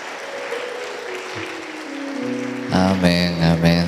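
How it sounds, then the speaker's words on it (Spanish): A church congregation claps for the Lord in a steady wash of hand claps, then music with singing swells in over the applause near the end. "Dale palmas al Señor."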